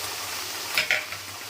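Curry leaves, onion and three kinds of greens including amaranth and fenugreek leaves stirred in a hot frying pan, a soft steady sizzle under a couple of brief scraping stirs, close and moderately quiet, no talk.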